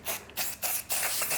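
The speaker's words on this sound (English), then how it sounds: "it's quite nice just to get some spray in at the roots" Hairspray sprayed at the hair roots in short bursts, four or five close, crisp hissing sprays separated by brief pauses.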